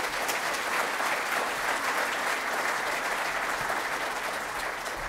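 Conference attendees applaud a keynote speaker at a raptor research meeting in Sacramento, an even, sustained round of clapping from a sizeable crowd, moderately distant and consistent throughout.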